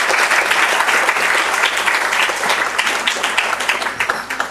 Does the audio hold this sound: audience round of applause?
yes